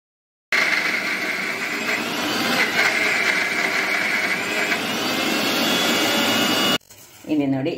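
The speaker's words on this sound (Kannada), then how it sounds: "ಒಂದು ಬಟ್ಟೆಯಲ್ಲಿ ಹಾಕಿ ಗುದ್ದಿ ಮತ್ತೆ ನಾವು ಮಿಕ್ಸಿಗೆ ಹಾಕೊಳ್ತಿದ್ದೇವೆ" A kitchen mixer grinder whirs loudly and steadily, grinding pounded spices to powder for a herbal kashaya. The run lasts about six seconds and cuts off abruptly, followed by a brief voice.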